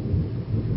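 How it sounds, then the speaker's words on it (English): Heavy rain pours during a thunderstorm, a dense steady roar with low rumbling, close and continuous without voices. "there's another big storm today."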